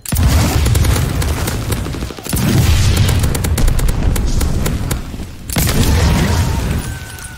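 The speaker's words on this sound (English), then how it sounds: "They're just shooting me." Booming, crackling gunfire and blasts fill a close-quarters firefight in Call of Duty: Vanguard, with loud near bursts broken by two brief lulls, rolling bursts dominating throughout.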